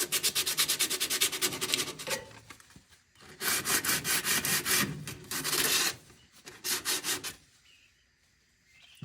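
Sanding with 80 grit sandpaper while prepping a 1924 Model T Touring: rapid, rhythmic rasping strokes in bursts with short pauses, close and clear, no talk.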